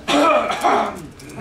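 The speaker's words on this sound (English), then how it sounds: "Don't be afraid to cough like you need to" A person coughs twice close by during a meditation session, a rough throat-clearing burst followed by a second softer one.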